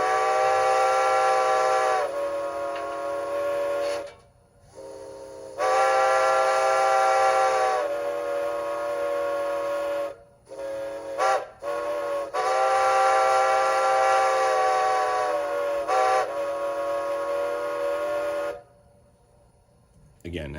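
A model train's grade crossing signal sounds repeated long, steady whistle blasts, each held for a couple of seconds with short gaps between, loud, close and clearly electronic in tone, with no voices.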